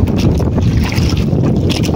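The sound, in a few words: wind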